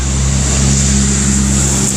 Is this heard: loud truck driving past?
yes